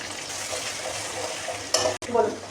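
Chopped ginger and garlic frying in oil for chili chicken, stirred with a utensil; a steady close sizzle with a few sharp scrapes and clinks of the spoon against the pan near the end.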